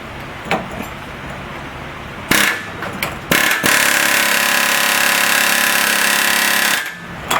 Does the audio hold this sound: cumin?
no